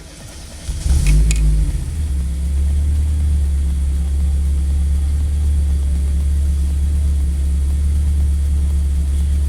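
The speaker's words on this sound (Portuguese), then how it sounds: "Vamos dar a partida." Chevrolet Kadett SLE engine cranking briefly, catching and settling into a loud, steady idle with a deep low rumble, heard up close and alone.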